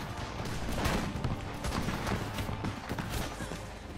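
Dense rapid gunfire crackles through a film battle scene on a beach, bursts of overlapping shots forming a continuous fusillade at moderate level.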